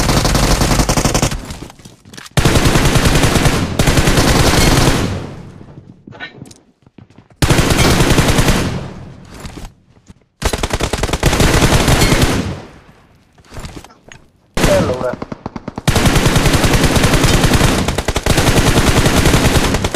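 Gunfire in the mobile battle royale game BGMI: long, loud, close bursts of rapid automatic shots separated by short pauses, with no talking.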